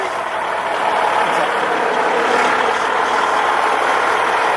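A tractor-trailer truck engine idles with a steady, loud, broadband rumble that holds constant throughout, with no voices over it.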